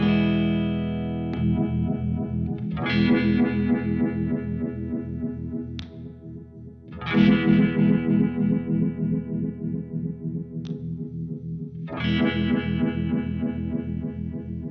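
An electric guitar plays sustained, distorted chords through a Uni-Vibe-style phaser, with a swirling, pulsing modulation, struck anew every few seconds.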